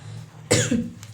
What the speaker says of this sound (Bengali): ঠান্ডা লেগেছে, প্রচুর কাশি হচ্ছে